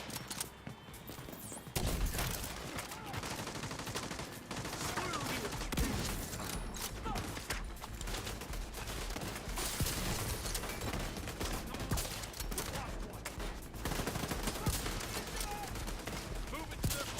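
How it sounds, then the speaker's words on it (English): Automatic turret fire in The Division 2 shooter game, sustained loud bursts of gunfire hammering almost continuously after a short quieter opening, mixed with other combat noise. "That turret hitting me in the back is not helping."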